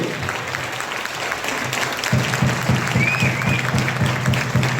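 A seated audience at a DXN business seminar in Deoria gives a burst of applause, dense continuous clapping that swells louder midway and holds steady for several seconds.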